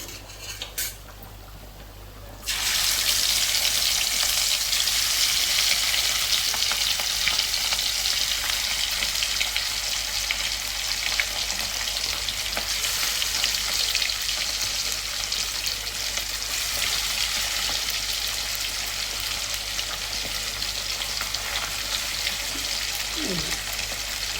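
Fish pieces frying in shallow oil in a pan, a loud, dense, continuous sizzle that starts abruptly after a quieter moment and holds steady close by.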